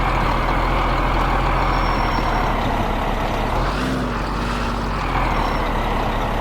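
Truck engine in USA Truck Simulator, a loud, steady diesel rumble that drones throughout, with a brief tonal whine rising in the middle and no voices.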